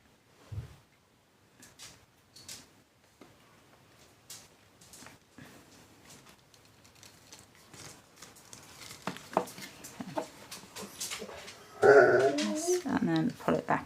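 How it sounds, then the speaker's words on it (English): Indoors during paper-craft card making, a dog barks and growls, faint and scattered at first, then louder, denser bursts near the end. "Apologies for the dog barking."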